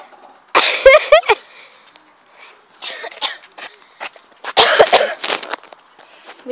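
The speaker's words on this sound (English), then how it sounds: "Her cough." Outdoors on a winter walk, a woman gives a harsh burst of coughs followed by further rough, throaty coughing fits, loud and close to the microphone.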